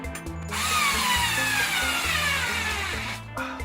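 A power drill drives screws into a wall, whirring steadily for several seconds with a rising, grinding pitch, starting and stopping abruptly, close by and loud.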